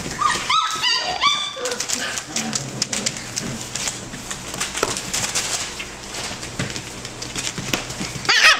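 F1 Labradoodle puppies yip and whimper in a lively litter, a burst of high cries early on and then scattered yelps over continuous rustling and clatter, with a voice calling out to them.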